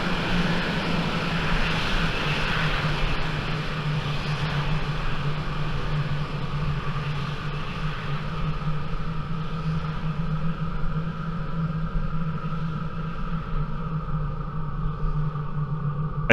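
Simulated fighter jet engine idling and taxiing in the 2005 flight sim Falcon 4 Allied Force: a steady, loud, continuous turbine roar and whine with low rumble, unchanging throughout, no speech.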